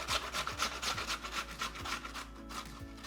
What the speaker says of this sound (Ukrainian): Також натираємо її на великі терці.